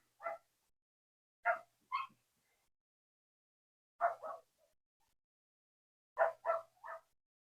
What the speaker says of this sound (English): My such angry little Pomeranian is barking at some little kids riding